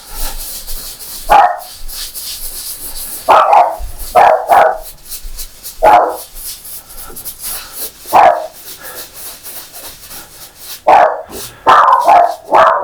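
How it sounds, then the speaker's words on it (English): Dogs bark in a home, in loud bursts of single and doubled barks spread over several seconds, with quiet gaps between them. "And the dogs are about to go."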